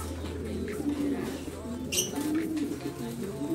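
Pigeons in a breeding loft, birds from Tacloban and Aparri being paired, coo low and repeatedly over steady background noise, with a brief brighter call near the middle.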